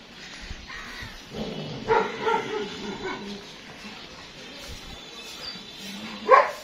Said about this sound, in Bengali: এখানে আরো ডগ আছে আমাদের।